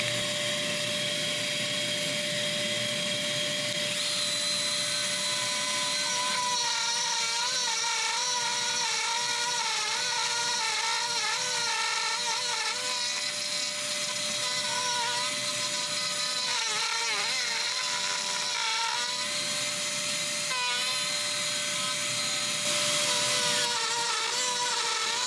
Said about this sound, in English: Alright, I got that routed nice and clean.